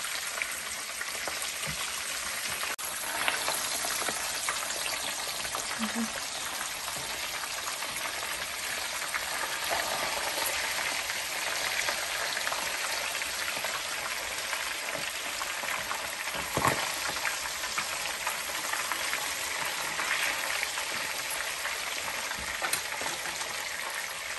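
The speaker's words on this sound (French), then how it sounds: "J'utilise la même huile là que j'ai pris pour utiliser pour frire mon poisson" Fish frying in hot oil while cooking tchep, a steady, dense sizzling crackle that holds nearly constant throughout, with faint scattered pops and no talk.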